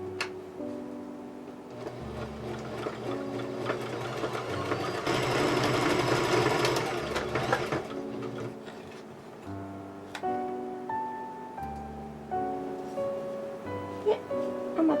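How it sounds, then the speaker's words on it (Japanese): Sewing machine running a stretch stitch along a ballet tutu skirt, with steady rhythmic mechanical stitching bursts close up, pausing briefly between runs, no talk over it. "これも直線伸縮縫いで縫っていきます。"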